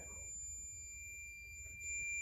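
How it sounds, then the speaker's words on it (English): A continuous high-pitched electronic ignition key warning beep on a 1970 John Deere 140 H3 garden tractor, steady and fairly faint, sounding alone over a low background hum. "So now if I turn on the key, you get the beep."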